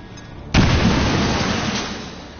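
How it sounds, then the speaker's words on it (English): A grenade explosion in XCOM 2, one sudden loud boom followed by a long rumbling decay, with no voices. "I'm blowing up things"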